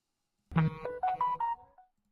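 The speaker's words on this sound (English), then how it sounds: "That's not my phone. That's from the video here." A short electronic phone ringtone plays from a video, a quick run of several bright rising tones over about a second and a half, clear and isolated in silence.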